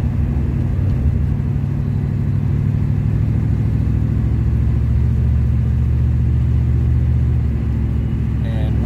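A 1977 Pontiac Trans Am low on gas drives along with its engine cutting out slightly in turns, heard as a steady loud low engine drone inside the car, with no clear break visible.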